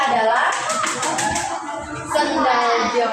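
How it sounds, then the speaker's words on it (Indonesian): Classroom applause for a pupil, a burst of many hands clapping rapidly among children, fairly close and loud, fading after a couple of seconds as voices and classroom chatter continue. "Beri tepuk tangan untuk Adel."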